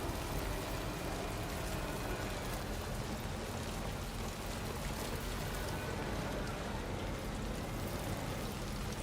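Steady rain in the video game Death Stranding 2 hisses and patters on surfaces, a dense even wash of sound with a faint low rumble underneath, continuous throughout.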